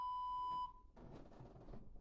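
A workout interval timer sounds one long, loud steady electronic beep lasting over half a second, then falls away into quieter background rustle and room noise.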